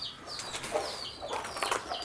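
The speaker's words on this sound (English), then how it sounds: "mother and baby chickens in here too" Mother and baby chickens clucking inside an underground rabbit house in a chicken manure setup, a series of close, chirpy clucks and peeps with faint background rustling.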